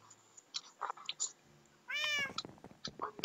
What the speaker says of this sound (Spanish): Este gato es muy estúpido